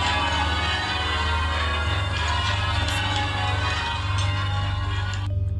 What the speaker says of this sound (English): So that's the bells of Bury St. Edmunds Cathedral